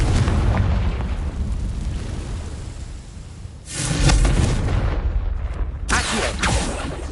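A Confringo blasting spell explodes in the Hogwarts Legacy video game: loud, sustained booming rumble with dense crackling blasts, swelling again midway and ending in further bursts.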